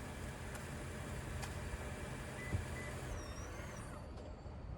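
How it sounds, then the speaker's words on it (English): The power folding mirrors on a 2021 Toyota Venza move, giving a brief, faint motor whir against a quiet, steady background hum. "Power folding mirrors."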